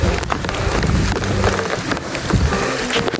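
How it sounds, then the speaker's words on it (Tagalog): Heavy rain in a rural mountain province, a dense, close hiss of drops pattering on leaves and surfaces, steady and loud throughout. "malakas na yung ulan."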